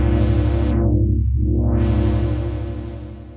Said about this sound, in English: So my mod wheel is now controlling my cutoff. So if I play now, let's go further down.